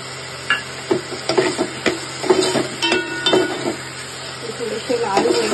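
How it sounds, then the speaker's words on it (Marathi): Garlic-ginger paste sizzles in a hot pan with a steady frying hiss, broken by scattered knocks and scrapes of a spoon stirring the paste, close and moderately loud. "ह्याच्यातच मी आता टाकणार आहोत लसूण अद्रकचं पेस्ट"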